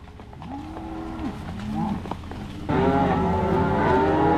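Cattle being herded through a field low, drawn-out moos from several animals, close and fairly loud, then a denser overlapping chorus of bellowing in the last seconds.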